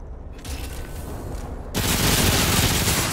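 Machine pistol firing on full auto in Remnant: From the Ashes, a loud, dense burst of rapid shots that swells sharply partway through and keeps going without a break.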